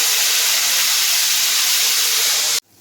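A spice mix with asafoetida hits hot oil for tamarind chutney masala, giving a loud, steady sizzling hiss that cuts off abruptly near the end.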